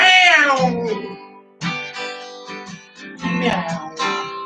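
A singer imitates a cat with drawn-out sung meows during a country song about a lazy old cat, several sustained voiced cries separated by short pauses, loud and close with no instruments standing out.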